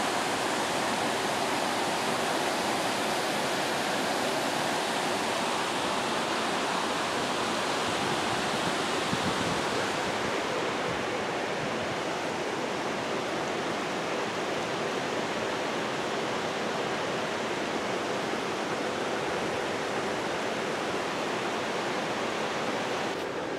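The Linville River rushes below a dam, a steady broadband roar of flowing water that stays loud and constant throughout, easing slightly partway through, with no voices over it.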